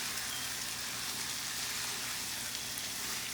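Liver cooks in a pan with a steady, even sizzle and crackle of frying, moderately loud and unbroken, with no voices.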